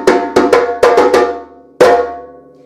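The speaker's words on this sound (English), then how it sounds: "So today I'm going to teach you the master drummer's stopping signal." A master drummer's stopping signal on a djembe: a quick run of ringing, bright strikes in uneven groups, then a pause and one final loud hit that rings out, close and unaccompanied.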